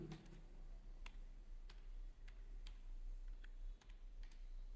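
Sparse, faint keystrokes on a laptop computer keyboard as a word is typed into a browser, a few separate clicks spaced apart over a low steady hum.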